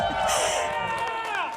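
Live audience at Gateway Film Center in Columbus, Ohio cheering and shouting in a loud burst of mixed voices, close and full, lasting under two seconds.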